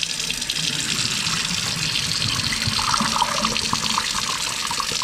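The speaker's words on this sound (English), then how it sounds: "You're just gonna run water through it" Tap water runs steadily into a bowl of rice being rinsed, the water turning milky, a continuous close splashing flow with no voices.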